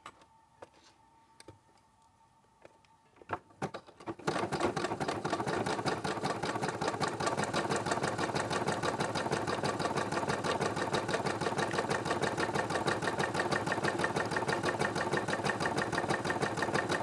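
A sewing machine stitches bag lining and bottom pieces together. After a few quiet clicks and handling noises it runs in a loud, steady, fast mechanical chatter that lasts to the end, heard close with no talk.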